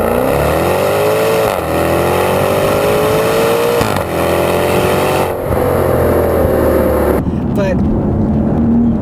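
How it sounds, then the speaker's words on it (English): A 2018 Maserati Quattroporte GTS with its Ferrari-built 3.8-liter twin-turbo V8 accelerates hard from inside the cabin, the engine note rising in repeated pulls between gear changes, loud and steady with a brief spoken word. "You can just hear a faint burble from that V8."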